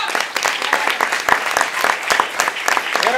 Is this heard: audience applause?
yes